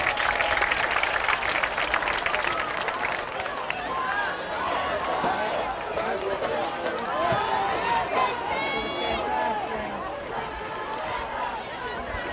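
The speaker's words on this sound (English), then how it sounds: "giving him a round of applause" Crowd in the stands at a high school football game between Moniteau and Karns City applauds, a steady dense clapping and cheering that holds through the whole stretch, with a public-address voice talking over it.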